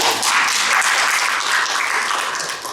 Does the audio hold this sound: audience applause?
yes